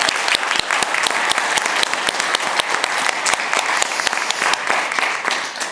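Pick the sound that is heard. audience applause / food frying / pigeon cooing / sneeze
audience applause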